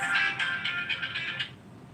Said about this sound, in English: All right, phone call.